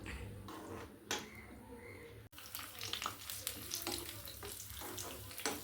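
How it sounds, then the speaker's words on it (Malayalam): Food frying in a hot pan while crisping for a Kerala muttakkuzhalappam, a steady close sizzle and crackle running throughout with a brief dip near the middle and no talk. "ഇത് ചൂടായി കഴിയുമ്പോൾ നമുക്ക് മുന്തിരി ഇട്ട് അതും കൂടി ഇട്ട് ഇതിൽ മൊരിയിച്ചെടുക്കാം, വറുത്തെടുക്കാം."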